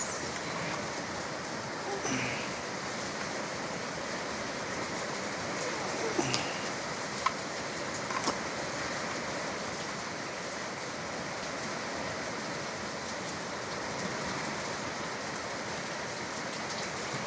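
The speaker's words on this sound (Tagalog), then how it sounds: "Lakas pa na ulan." Heavy rain falling steadily, a dense continuous hiss of drops on surfaces with a few brief louder taps, sustained throughout with no clear speech.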